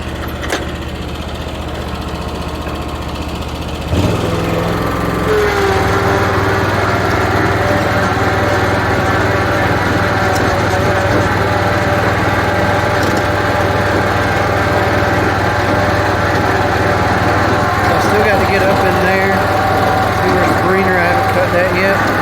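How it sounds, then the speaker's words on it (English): John Deere Ztrak zero-turn mower running on a lawn, its engine a steady, loud drone close to the microphone that rises after a few seconds and holds throughout, with a voice talking over it. "Hopefully you can hear me over the mower."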